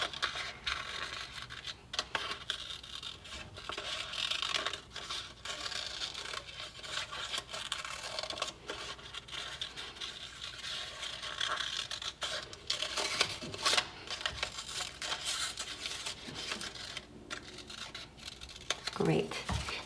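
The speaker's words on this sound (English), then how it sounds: "Let's get out our scissors and let's cut along that wavy line." Repeated crisp snips and rustling of scissors cutting through paper, ongoing and close, with paper handling sounds throughout.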